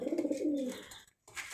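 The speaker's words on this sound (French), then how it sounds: "je vais vous présenter mon élevage de pigeons" Domestic pigeons cooing up close in a backyard loft, including a Texan cross and a homing pigeon: a low, throaty rolling coo that fades out, followed by a brief pause and faint shuffling.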